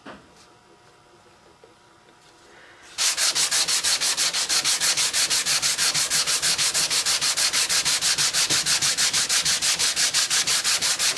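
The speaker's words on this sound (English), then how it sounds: "it's actually not the easiest thing in the world on a full guitar body to sand this down to where it's really even" A figured maple guitar body being sanded by hand: after a few quiet seconds, loud rapid back-and-forth rubbing strokes start and keep a fast, even rhythm, close to the microphone.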